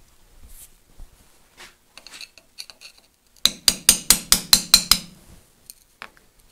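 A hammer striking to knock the seal cover off an Adwest steering box, about eight sharp metallic knocks in a quick, even rhythm, close and loud, after a few quieter taps and scrapes.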